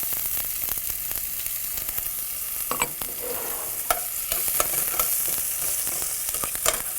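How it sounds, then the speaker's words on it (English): Chopped onion hits a hot pan of frying cumin and sizzles steadily, with a spoon scraping and tapping the pan in irregular strokes, close and fairly loud. "Then I'm going to add the onion."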